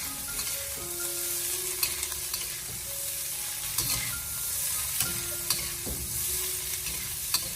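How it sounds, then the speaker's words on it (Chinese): Blanched green beans stir-fried in a wok over high heat, with a steady sizzle and repeated scraping and tossing strokes of the spatula against the pan, close and alone without talk. "再把焯过水的豆角重新回锅，然后再将火候立刻的调为大火，给它快速的翻炒一下"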